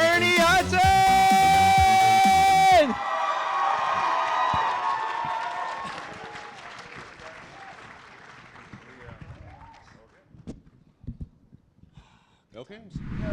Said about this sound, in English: give a huge round of applause, everybody, for Ernie Hudson!